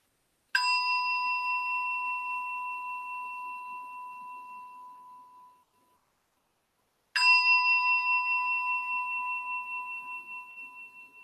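A meditation bell is struck twice to open a zazen sitting, each clear, pure ring sustaining and slowly fading over several seconds, alone in near silence.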